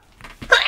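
A single sharp human sneeze, close and loud, rising from a short inhale into an explosive burst at the end.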